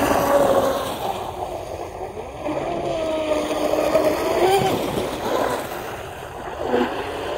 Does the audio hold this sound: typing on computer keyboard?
no